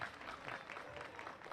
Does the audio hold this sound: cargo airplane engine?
no